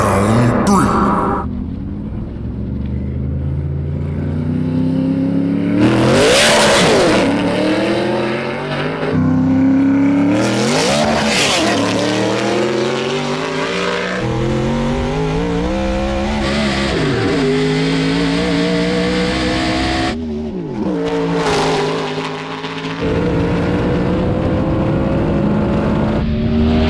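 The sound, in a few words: Trans Am versus E36 M3 no-prep drag race run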